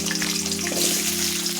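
Cut potatoes frying in a pan, a steady close hiss and sizzle with a low hum underneath, continuous for under two seconds.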